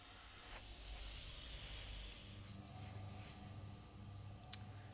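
An airbrush sprays paint through a micro dot template to add texture on a skull, a steady close hiss that swells and eases over several seconds with a small tap near the end.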